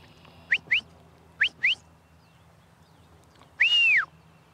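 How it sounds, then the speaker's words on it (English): A shepherd's whistle command to a Border Collie: two pairs of short sharp rising chirps, then a longer piercing tone that holds and falls away, clear over quiet outdoor background. "he has a whistle for that as well"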